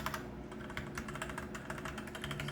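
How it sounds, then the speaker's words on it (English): Rapid, uneven clicks from keys typed on a MUCAI MKA610B 60% mechanical keyboard with mostly soft switches, close and steady for the whole stretch with no talking. "And most of the key switches are soft."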